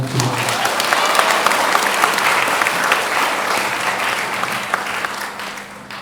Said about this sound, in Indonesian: Boleh tepuk tangan dulu Bang.